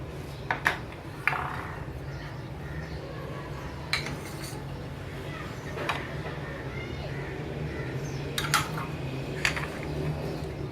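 Chicken nugget ingredients, including bread crumbs, egg, black pepper and oil, are stirred together in a bowl, giving scattered metal-on-dish clinks and scrapes at an irregular pace over a faint room hum.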